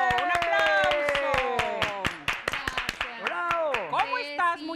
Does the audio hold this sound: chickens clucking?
no